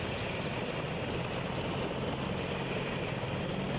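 An AH-64 Apache attack helicopter flies with a steady, throbbing rotor and engine roar, moderately distant and continuous, with no talk over it.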